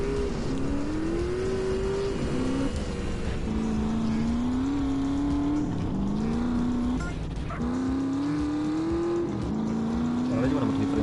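Motorcycle engine in GTA San Andreas, a steady loud drone whose pitch rises and falls through repeated gear-like sweeps across the whole stretch, with a voice talking over it.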